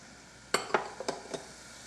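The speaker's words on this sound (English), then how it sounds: "And I stir." Food stirred in a cooking pan: a handful of brief clinks and scrapes of a utensil against the pan over a quiet background.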